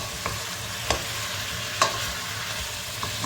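A spoon stirs oil and a spoonful of margarine in a hot pan, a soft steady sizzle broken by a few distinct scrapes and taps, close by, with no one speaking.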